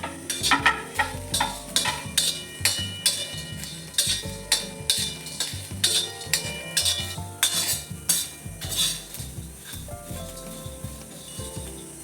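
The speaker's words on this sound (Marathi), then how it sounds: "आता आपण यामध्ये हे सुद्धा एकत्र भाजून घेऊया" Spice paste for a mutton curry being dry-roasted and stirred, with busy rhythmic scraping and clinking of a metal spoon against the pan over a soft sizzle, close and fairly loud.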